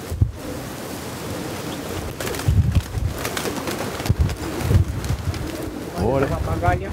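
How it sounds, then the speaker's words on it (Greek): A large flock of pigeons, around 68 birds, gathers outdoors on Santorini, producing steady layered cooing and fluttering with louder bursts throughout, under a constant outdoor wash and some distant voices. "68 περιστέρια."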